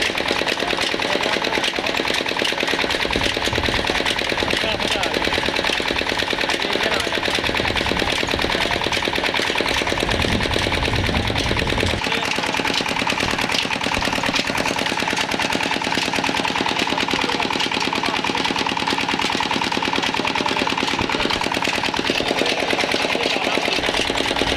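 A 25 HP Petter engine running on biogas from cow dung, driving two 6-inch tubewells through dual shafts, loud, steady rapid chugging that runs continuously throughout with no pauses.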